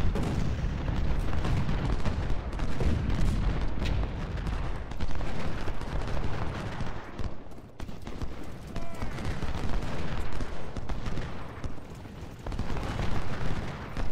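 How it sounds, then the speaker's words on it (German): Continuous battlefield gunfire from the Civil War strategy game Ultimate General: Civil War, dense rolling volleys and artillery rumble, dipping briefly midway then resuming. "Da wird weiter geschossen."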